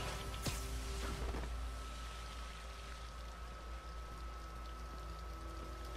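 Sewer water flowing in Marvel's Spider-Man game, a steady faint pouring wash with a low hum and a few sharp clicks early on, no talk.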